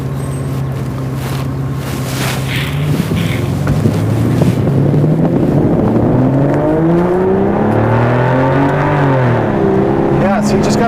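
An Aston Martin DBS engine drones under steady wind noise while driving, its pitch climbing and falling through smooth revs, with a brief voice heard early on.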